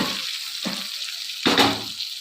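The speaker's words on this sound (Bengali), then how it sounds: "মশলাটা আমার পুরো কষানো হয়ে গেছে, এবার আমি চিংড়ি মাছগুলোকে দিয়ে দেব।" Prawns go into a pan of cooked-down spiced masala for a Bengali prawn malai curry, setting off bursts of loud sizzling and frying with stirring in between.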